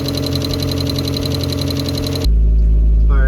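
A turbocharged Mazda Miata engine idles steadily just after its first start-up, a loud continuous rumble with a cyclic mechanical rhythm that cuts off abruptly partway through, leaving a low steady hum.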